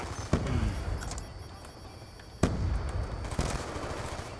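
A gun in Black Ops 2 on PC that turns out not to be fully automatic fires three separate sharp shots, each a loud crack with a ringing tail, spaced irregularly over steady game background noise.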